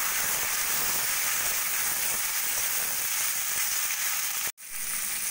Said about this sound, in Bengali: এবার ওই তেলের মধ্যে সর্ষে আর তেজপাতা ফোড়ন দিয়ে দেব। এবার দিয়ে দেবো আগে থেকে কেটে রাখা আলু।